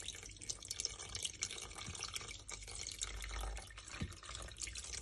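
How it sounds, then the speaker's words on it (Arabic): Milk pouring steadily with a continuous splashing, trickling sound, close and fairly quiet, with small dripping bursts throughout. "هنجيب اللبن بتاعنا وهنبدا نوزعه كده معانا"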